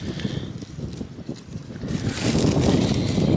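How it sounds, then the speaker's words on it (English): Gusty wind buffets the microphone in an orchard with a low rumble that builds louder toward the end, rushing steadily outdoors with no speech. "It's really getting windy"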